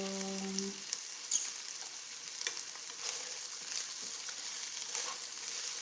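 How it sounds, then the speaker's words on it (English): Food sautés quietly in a pan, giving a soft, even sizzle with occasional light crackles after a brief low hum at the start. "let that saute a little bit"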